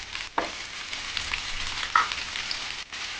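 Peeled pavta beans fry in hot oil with potatoes, a continuous close crackling sizzle with a few sharper pops and light stirring scrapes, no voices over it.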